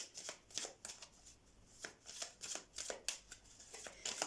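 Lenormand oracle cards shuffled by hand in a steady series of crisp riffling, flicking bursts, close and fairly quiet, with no talk over it.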